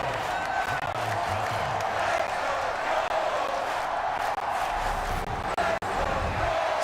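A steady wash of stadium crowd noise in the video game Madden NFL 23, a broad, constant roar of many voices with faint cheering, while a commentator's voice runs underneath.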